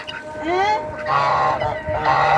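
Garden waterfowl give several loud, close honking quacks in quick succession, a harsh nasal run of calls with little else around them.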